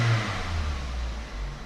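A car engine revving as it is accelerated, outdoors in Miami, Florida: a steady, loud mid-range engine roar that holds a fairly even pitch throughout, with no talking.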